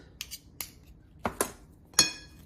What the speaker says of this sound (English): now I'm going to use a fork to combine my topping ingredients